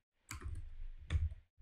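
Two brief clusters of clicking and key presses on a Windows computer keyboard, close and moderately loud, separated by a short pause, with no speech.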